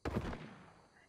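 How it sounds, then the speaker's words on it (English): A single sharp gunshot in Red Dead Redemption 2, loud and close, with a short decaying tail and no talk. "He just shot me!"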